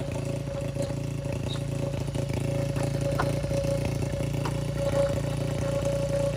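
A motorcycle engine with a modified MP7 regulation-spec exhaust idles with a steady, throaty rumble and rattling exhaust, close and continuous, with slight variations in pitch.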